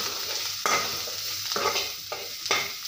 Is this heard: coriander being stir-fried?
yes